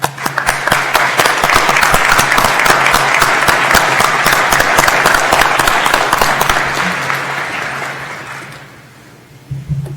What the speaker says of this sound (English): I would like to ask all of our faculty to stand as we give them a round of applause